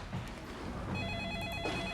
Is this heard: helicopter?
no